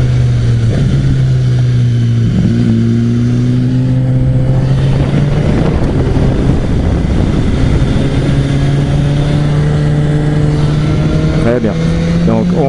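A car on a racing circuit drones steadily close by, engine pitch sagging as it brakes into a corner then climbing again as it accelerates out, while someone talks over it.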